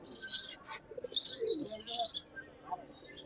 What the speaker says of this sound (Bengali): এই কবুতরটা 1500 টাকা দাম, রানিং কবুতর, বেনারস কবুতর।